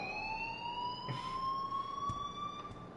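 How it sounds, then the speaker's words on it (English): Steady electronic alarm in the video game Life is Strange, a sustained slowly rising tone ringing continuously at moderate level with a couple of faint knocks underneath. "please turn off that alarm since that's your job"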